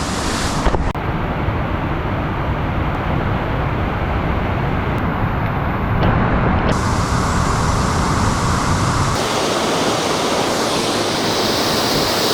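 Loud, steady roar of a waterfall close by at Gordale Scar, broadband rushing water filling the whole clip, with a wind-buffeted shift in tone near the end.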